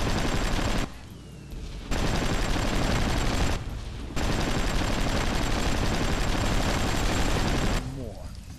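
Truck-mounted gun in the Hard Truck: Apocalypse video game firing in sustained rapid bursts, loud and close, with brief pauses between volleys and no talking.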